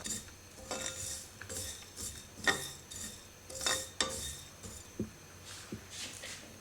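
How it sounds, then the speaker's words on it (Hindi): Whole coriander seeds dry roasting without oil in a pan over low heat, with scattered clinks and scrapes of a spoon stirring against the metal. "2 खाने के चम्मच साबुत धनिया मैं पैन में डालती हूँ। और हल्की आंच पर हमने इसको ड्राई रोस्ट करना है।"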